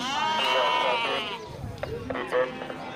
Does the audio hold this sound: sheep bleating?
yes